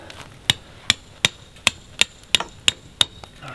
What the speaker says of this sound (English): Just hammer it all the way down.